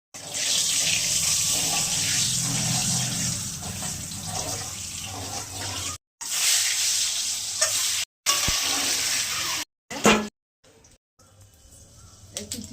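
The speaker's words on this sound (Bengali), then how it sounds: "ডিমগুলো ভেজে নেব।" Boiled, pricked eggs frying in hot oil, a loud hissing sizzle that cuts off abruptly several times and returns in short bursts.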